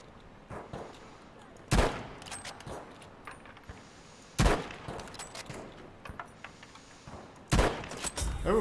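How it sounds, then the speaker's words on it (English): Machine gun suppressing fire in Battlefield 5, heard as a few loud, sharp bursts spaced a few seconds apart over a background of distant battle noise. "Suppressing fire!"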